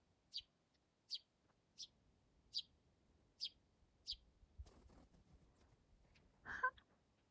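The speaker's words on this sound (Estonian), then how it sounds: "Kas sa kuuled? Linnuke?" A small bird chirps outdoors in snow, about six evenly spaced short high chirps, faint and distant in a quiet setting, followed by a brief rustle and a louder call near the end.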